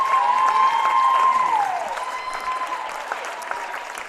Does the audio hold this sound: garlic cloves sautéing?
no